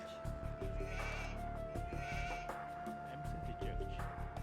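Sheep in Age of Empires II bleat several times over a busy game soundtrack with steady tones and clicks, the calls moderately loud and close.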